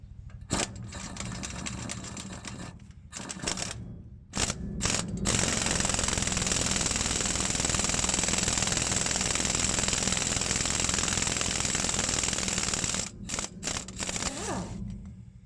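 A Harbor Freight puller, probably driven by an impact wrench, works on the rear pinion yoke of a 2006 Ford F350. Short rattling bursts give way to a long, loud continuous hammering run, then a few more brief bursts at the end.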